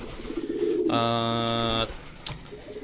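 Racing pigeons in a loft after a 55 km club training toss, soft cooing in the background interrupted by a loud steady electronic beep, likely a race clock, with a faint click afterward.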